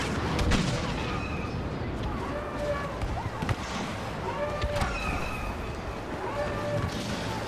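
A pulse cannon fires in Star Wars Battlefront, sharp shots crackling among steady battle noise and distant blasts, with someone talking over the fighting.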